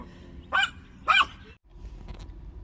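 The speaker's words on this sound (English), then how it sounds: "Still barking." Two sharp dog barks in quick succession, somewhat distant, followed by faint background noise.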